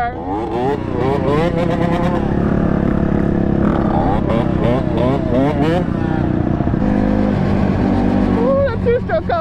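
A two-stroke dirt bike engine revs hard and passes nearby, its loud buzzing whine climbing and dropping through repeated throttle bursts, with excited voices talking over it.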